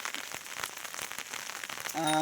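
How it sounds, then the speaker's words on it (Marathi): Steady dense rain hissing and pattering on a surface, loud and continuous, with a tonal hum rising near the end. "भयानक पाऊस पडतो आहे"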